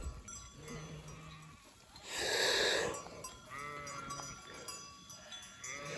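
A flock of sheep with lambs on a hillside slope near Nurhak bleats, with one loud, drawn-out bleat in the middle and quieter, scattered calls around it.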